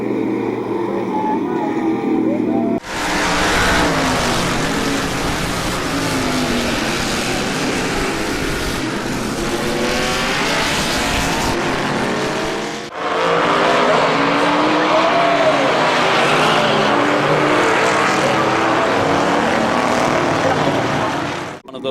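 Race cars roaring around the oval at Midvale Speedway during a 2012 event, engines loud and continuous with passing surges and a crash-like break near the middle, under an announcer's commentary.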